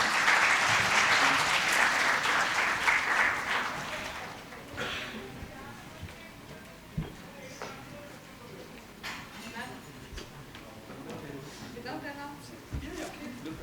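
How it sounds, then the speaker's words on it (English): Audience applause at an education conclave, a loud burst of clapping for the first few seconds that fades to scattered claps, with a presenter talking over the quieter stretch. "if we can just have a louder round of applause for them"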